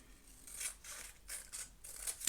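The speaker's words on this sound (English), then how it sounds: "I'm just going to chop these with my scissors." Repeated scissor snips through stiff, thick paper, about five crisp cuts at a steady rhythm, close and fairly quiet with no talking.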